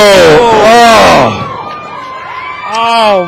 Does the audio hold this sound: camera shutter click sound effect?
no